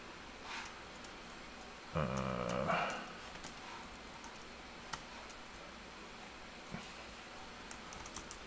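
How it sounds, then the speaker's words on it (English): Quiet, scattered keystrokes on a computer keyboard with a brief louder burst of clatter near the start, then sparse clicks in a near-silent room. "So I'll just type in what I think"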